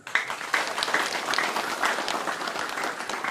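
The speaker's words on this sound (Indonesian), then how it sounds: "Tepuk tangan dulu." Audience applause at a military district command inauguration ceremony, brisk, dense clapping from a crowd that starts abruptly and carries on at an even level.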